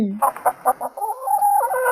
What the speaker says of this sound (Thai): มันโก่งคอขันเสียงดังลั่น